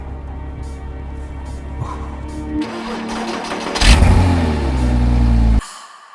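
A Porsche Cayman 987 engine fires up and revs at a Goodwood Autosolo, a steady mid-pitched drone building into a loud rising surge before cutting off abruptly near the end.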